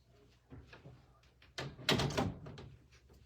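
An indoor door is pushed shut close by, with a couple of soft knocks and then a firmer thud and rattle as it closes, heard alone.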